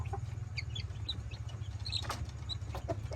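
A three-day-old chick gives a few faint, high peeps, scattered over a low, steady background hum.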